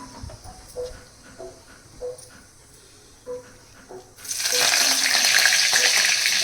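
Cumin and mustard seeds hit hot oil and ghee in a pan, bursting into a loud, close, steady sizzle after a few light clinks and spoon taps.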